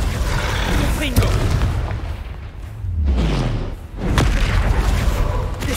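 Confringo fire-blast spell in Hogwarts Legacy, going off as a couple of deep booming blasts amid ongoing combat noise, loud and close.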